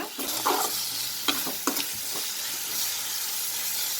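Tomatoes softening as they fry in a pan for a brinjal and baby capsicum bhaji, close sizzling with a handful of sharp spatula scrapes early on, then a steadier hiss, and no voices.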